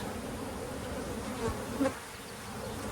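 Honeybees buzzing at an opened brood-nest hive during frame moves, a steady close hum with a few individual bees passing near.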